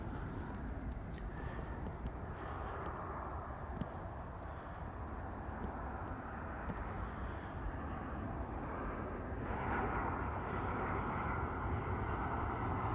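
A 37-year-old Jet2 Boeing 757 arrives on its final flight, its engines making a steady distant roar that grows louder and fuller near the end, heard alone without talk.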